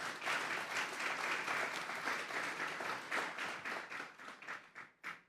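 A church congregation applauds steadily, dense clapping that thins out into a few scattered, separate claps near the end.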